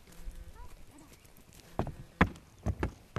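A mare's hooves clip-clop near a hitching rail, with several hollow, uneven thuds coming close together in the second half, while someone talks quietly in the background.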